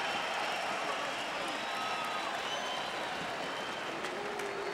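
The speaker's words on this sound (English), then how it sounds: "getting some love from the crowd for his brave performance" A boxing arena crowd applauds and cheers a fighter, a steady wash of distant clapping and murmuring voices that fills the hall throughout at moderate loudness.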